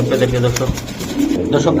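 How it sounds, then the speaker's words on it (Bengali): Racing pigeons coo in short, soft repeated calls close by, mixed with some background chatter and handling noise. "কবুতরগুলো ডাকতেছে"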